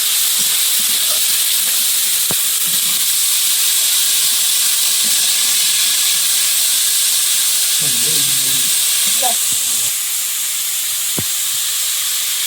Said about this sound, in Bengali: আলুটা ভালো করে ভেজে নিয়েছি